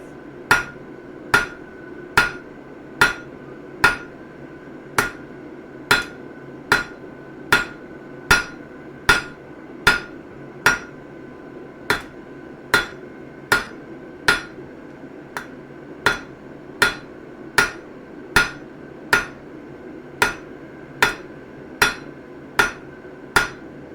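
Steady hammering on hot steel while forging chisels, about twenty-two sharp, ringing blows at an even pace of roughly one per second, close and clear over a low background hum.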